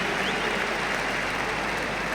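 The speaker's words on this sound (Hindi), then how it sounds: "एक बार बहुत जोरदार तालियां आप लोगों के लिए।" A large audience at an RCM 23rd anniversary gathering claps loudly and continuously, a thick, even roar of hands with no break.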